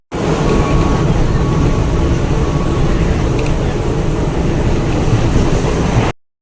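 Inside a moving passenger train, a loud, constant rumble of wheels and rattling carriage fills the space, steady throughout before cutting off abruptly near the end.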